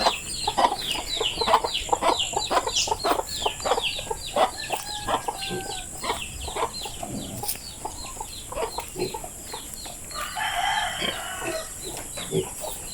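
Several farm chickens in a home kitchen cluck steadily and near for a long stretch, with a busy overlapping chatter of short calls and a louder squawk toward the end.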